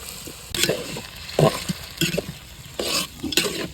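Red lentils stirred in a hot pan, with repeated scraping strokes and soft sizzling in an uneven rhythm, close and moderately loud, without any talk.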